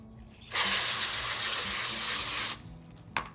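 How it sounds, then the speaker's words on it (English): Water gushes steadily into a plastic bucket of rust-stained crystals for about two seconds, a broad close hiss of pouring liquid that stops abruptly, followed by a couple of faint clinks. "We're just gonna get the crystals wet."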